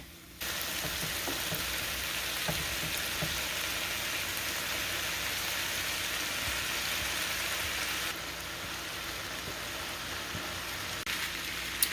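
Sausage frying in a pan with spices and butter gives a loud, steady sizzle that holds at the same level for most of the stretch, then eases slightly toward the end.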